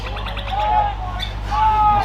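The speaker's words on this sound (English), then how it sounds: "There's more chirping these birds than what's going out on the field at the moment." Small birds chirp and whistle thinly near a suburban football ground during a local league match, faint high calls over steady broadband crowd and wind noise.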